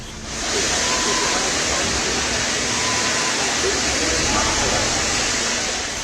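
Water cannon blasting a steady, loud rushing spray at protesters during a street march in Kolkata, a continuous broadband roar holding for several seconds.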